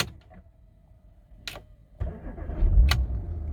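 A Porsche Macan fitted with a Starline i96 immobiliser starts up after a short beep, its engine catching with a loud rumble that settles into a steady idle, followed by another electronic chirp.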